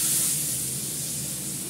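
Water poured into a hot pan of fried pabda fish for a curry produces a steady, moderately loud hissing sizzle throughout, easing slightly toward the end.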